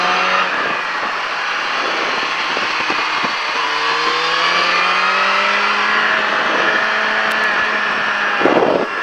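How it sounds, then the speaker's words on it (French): Motorcycle on a track-day circuit at La Ferté Gaucher accelerating hard out of a cone, a loud, close, continuous engine roar with rising pitch that swells again near the end. "Et au cône, je relève la moto et j'accélère."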